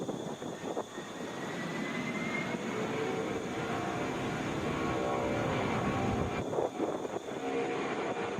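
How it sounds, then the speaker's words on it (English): A United Boeing 737 airliner at Atlanta International Airport produces a steady, moderately loud engine rumble that holds throughout, with a faint passing surge late on. "This is United 422 going to Houston, Boeing 737"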